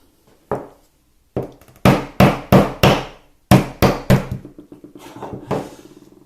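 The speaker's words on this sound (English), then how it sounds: "I'm just going to put an extra tack in the center to keep it tidy" Tacks being hammered into a hardwood frame: a series of sharp, loud, close strikes, several in quick rhythmic bursts with short pauses between, followed by lighter, quicker taps.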